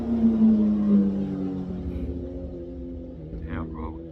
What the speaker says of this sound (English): People ride motorcycles this loud.